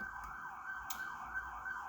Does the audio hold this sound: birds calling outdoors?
no